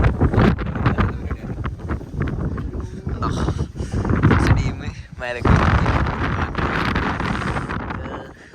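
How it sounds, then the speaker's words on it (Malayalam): Strong wind buffets the microphone with heavy, roaring gusts that stay loud throughout, and a voice speaks briefly under the rumble. "നല്ല കാറ്റുണ്ട്, സീനില്ല."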